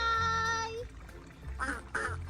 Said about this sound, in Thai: บ๊ายบายแม่เป็ดกับลูกเป็ดไป